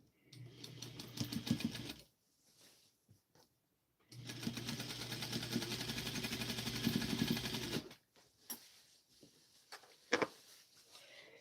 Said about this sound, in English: I think on that piece I'll top stitch the lining and the outer fabric together.